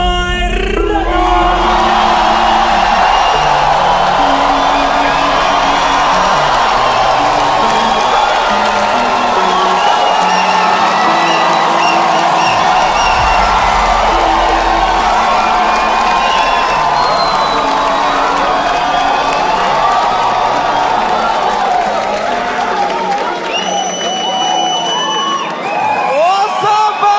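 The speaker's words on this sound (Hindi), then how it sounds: "एक बार जोरदार ताली बजा दो सबके लिए भाई" A stand-up comedy audience cheers, whoops and applauds loudly in a dense, sustained roar of crowd noise that lasts throughout, with scattered shouts rising above it and fading slightly at the end.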